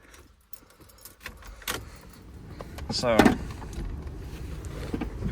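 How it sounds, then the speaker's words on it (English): Keys jangle in the ignition of an NA Mazda Miata running MegaSquirt or Speeduino EFI, followed by a brief electric cranking whir and the four-cylinder catching into a steady idle close by, with a short spoken word at the start. "Next up, you're gonna start your car."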